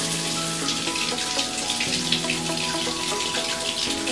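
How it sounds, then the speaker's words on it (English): Kitchen tap runs continuously while cups are washed under it in the sink, a steady close splashing rush with faint clinks and no talk. "So now I'm gonna get that washed up real quick, as well as my ninja cups"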